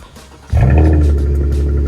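A car engine that had sat unused for a day cranks and catches with a sudden loud start, then settles into a steady, close idle with no one talking.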